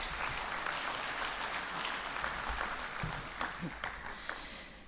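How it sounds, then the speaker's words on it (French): Applause for the mayor at a civic ceremony, a fairly quiet, crowd-wide clapping that continues steadily and begins to thin toward the end. "On peut peut-être l'applaudir une nouvelle fois pour cela."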